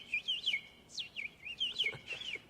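A person whistles a bird call imitation, a run of bright rising and falling chirps and trills in quick bursts, fairly close and clear, with no speech over it.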